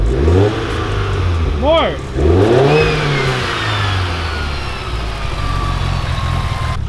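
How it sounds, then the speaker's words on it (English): A turbocharged Mitsubishi Evo X engine revs up in repeated rising and falling pulls, loud and close, with turbo whistle and spool trailing off, while a person speaks briefly over it. "See how she sounds. Rev it up. More. More."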